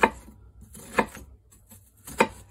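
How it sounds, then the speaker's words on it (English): A knife chops through an onion on a cutting board in an RV kitchen, giving three sharp, separate cuts about a second apart, close and clear with quiet pauses between them. "I make a couple of cuts horizontally across the onion"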